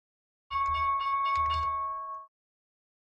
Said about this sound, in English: That's the market opening bell.